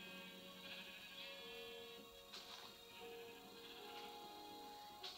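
Sheep bleat in a survival video game, a few soft, distant calls rising at intervals over a steady bed of background game music.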